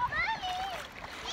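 Children splash about while bathing outdoors on a very hot, sunny day, a steady wash of water noise with bright high chatter and kids' voices mixed in throughout.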